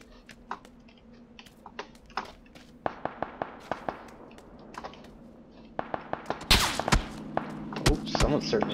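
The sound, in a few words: gunshots in video game PlayerUnknown's Battlegrounds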